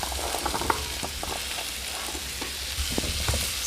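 Squash frying in a pan with salt and ground black pepper for palakbet, being stirred: a steady close sizzle with scattered scraping clicks of a utensil, no talking.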